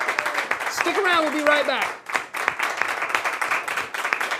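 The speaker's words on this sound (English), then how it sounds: "Yeah, round of applause." Studio audience applause on a late-night talk show, brisk clapping running under a host's voice and music, continuing steadily to the end of the short stretch.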